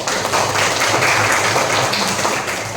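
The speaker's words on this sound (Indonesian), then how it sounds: "Tepuk tangan semuanya." Children in a classroom clap together after a teacher's prompt, a dense, steady patter of many small hands filling the room for a few seconds at fairly loud level.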